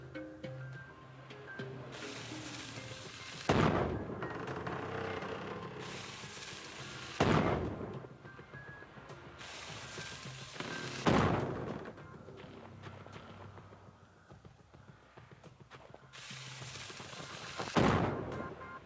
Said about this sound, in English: One more cannon will do it.